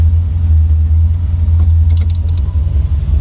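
A car engine idles in a low, steady rumble close by while the vehicle is parked, the hum holding constant throughout with faint clicks and small sounds above it.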